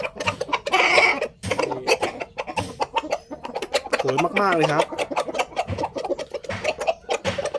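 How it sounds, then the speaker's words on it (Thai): A red Kai Choeng fighting rooster gives a short run of clucks and throaty calls close by, interleaved with someone speaking throughout. "ตรงนี้เป็นไก่เชิงนะครับ ไม่ใช่พม่านะ เป็นไก่เชิงนะครับ"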